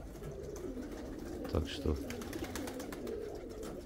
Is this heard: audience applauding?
no